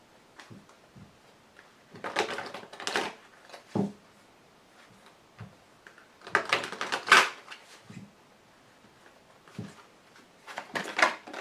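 Tarot cards are shuffled, flicked and laid out on a surface in several short bursts of crisp papery slaps and rustles, close and fairly quiet, separated by brief pauses.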